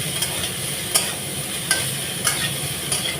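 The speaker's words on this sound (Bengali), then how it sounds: "ওর ভালোভাবে পেঁয়াজের সাথে মিশিয়ে নিলাম চিচিঙ্গাগুলো।" Boiled snake gourd is stirred into frying onions in a pan, a constant close sizzle punctuated by regular spatula taps and scrapes roughly every second.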